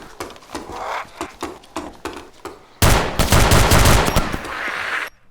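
Gunfire in the video game DayZ, first a rifle such as a Winchester firing steady single shots, then a sudden loud, dense burst of rapid fire from another gun that runs for a couple of seconds before cutting off.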